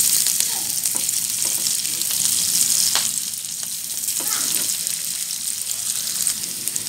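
Seafood sizzles steadily in a hot wok as aromatics fry, with an even hiss and occasional scraping stirs, close and fairly loud, with a voice speaking faintly.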